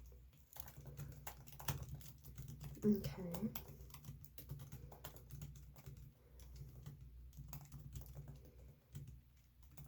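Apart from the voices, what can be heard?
typing on a computer keyboard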